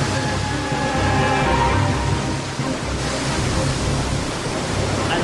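Water wheel driven machinery at Finch's Foundry, a Devon watermill forge, starting up as a loud, steady wash of churning, rumbling mechanical noise with rushing water, continuous throughout without speech.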